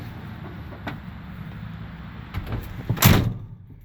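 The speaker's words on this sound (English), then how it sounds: "Door shut like an old Ford should." Driver's door on a 1973 Ford F100 farm truck swinging and then shutting with one solid close slam near the end, preceded by soft handle and hinge clicks, nearby with no talk.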